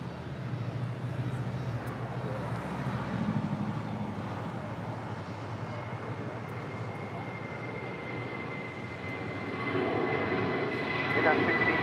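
Steady roar of airliners at LAX airport, with jet engines rumbling continuously and swelling louder near the end as a departure spools up on the runway; a radio-style voice talks over the noise throughout.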